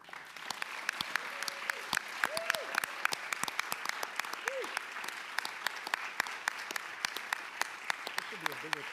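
Audience applause at a high school fine arts awards ceremony after a music award winner is announced: steady, dense clapping from a sizable crowd with a few voices calling out over it.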